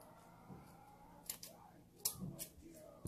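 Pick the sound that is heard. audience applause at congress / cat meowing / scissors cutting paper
scissors cutting paper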